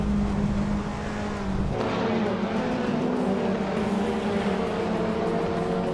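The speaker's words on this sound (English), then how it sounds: "Captain Canadian is driving a 2016 Mazda MX-5 Cup Type" Race car engine from a 2016 Mazda MX-5 Cup in a racing video game, a steady, loud droning whine that holds and shifts pitch throughout, with no pauses.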